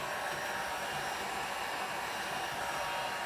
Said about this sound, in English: This is loud because this is a heat gun they use on paint